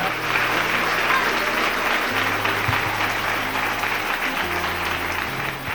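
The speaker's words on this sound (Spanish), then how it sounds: "Dale ese aplauso al Rey en esta mañana" A congregation claps in church on a morning service, steady continuous applause with sustained keyboard chords underneath, holding at an even level throughout.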